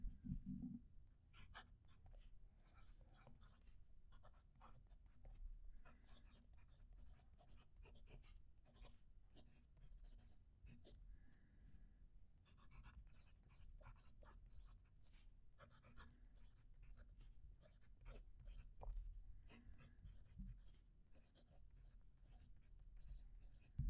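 A pen scratches across Fabriano paper in quick, faint, close strokes with brief pauses between words, alone and with no talking.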